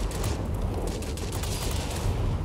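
Aircraft cannons fire in a dense, continuous rattling burst in World of Warplanes, loud and close with rapid overlapping shots throughout.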